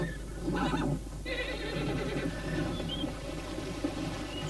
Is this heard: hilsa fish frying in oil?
no